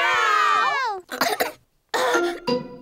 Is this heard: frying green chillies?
no